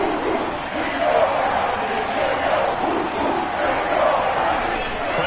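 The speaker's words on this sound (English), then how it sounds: "the crowd getting into it as we come up on a big 3rd down" Crowd noise swelling in the stadium of the Madden 21 American football video game ahead of a big third down, a steady broad roar of cheering that holds at a fairly constant loudness throughout.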